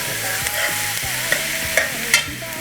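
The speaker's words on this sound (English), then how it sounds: "onions, and mushrooms, not the garlic yet. And we're gonna saute that" Onions and mushrooms sauteing in a pan for Cajun crawfish fettuccine, a constant sizzle with periodic spoon scrapes and clacks as the pan is stirred, close and clear.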